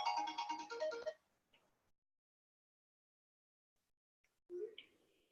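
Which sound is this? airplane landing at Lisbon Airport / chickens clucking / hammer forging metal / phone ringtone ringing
phone ringtone ringing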